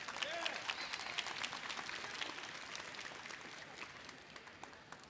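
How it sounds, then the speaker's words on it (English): Conference audience applause at an INBOUND 2024 talk, a faint, steady patter of many hands that gradually thins out over a few seconds. "They get a round of applause right now."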